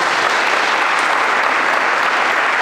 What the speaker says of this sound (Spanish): Demos un fuerte aplauso y que viva el elenco de Marinera.